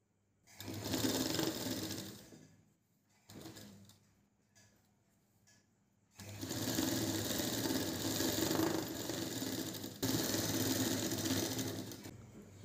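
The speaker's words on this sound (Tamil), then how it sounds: "அது மேலே நம்ம இந்த நேர் பீஸை வச்சு ஒரு அமுக்கு தையல் போடுறோம்." A sewing machine runs a press seam across a piece of cloth in a tailoring class, stitching in steady close-up bursts separated by short pauses while the fabric is repositioned.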